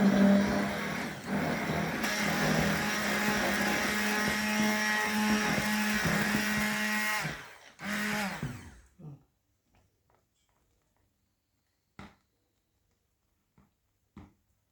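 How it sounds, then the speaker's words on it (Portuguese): A blender whirs loudly and steadily for about seven seconds while mixing a hot-process soap batter, then stops, followed by a brief restart and a few scattered clicks and knocks in near silence. "é por isso que eu gosto de mixar, porque a mixagem, ela acelera aqui essa reação química"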